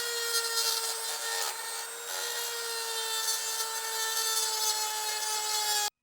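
Rotary grinding tool smoothing rough spots on a 12-valve International engine casting, a steady high whine with scraping grit, continuous and close, cutting off abruptly at the end.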